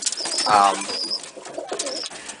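Pigeons coo in low, throaty rolls, one close bird prominent at first, softer cooing following, with faint chirps in the background.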